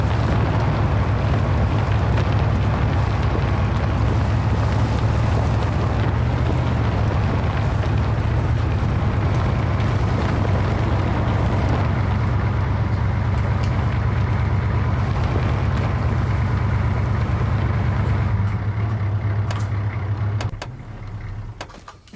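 A military vehicle engine in the Arma 3 game rumbles loud and steady for over twenty seconds, with a heavy low drone and rattling, fading away at the very end.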